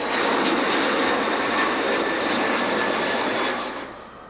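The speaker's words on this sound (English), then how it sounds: "Delta Airlines has always been the largest operator of Lockheed's TriStar, one of which is seen rotating at Los Angeles International." A Delta Lockheed L-1011 TriStar widebody trijet rotating for takeoff at Los Angeles International, its engines a loud, steady broadband roar that holds before fading away at the end.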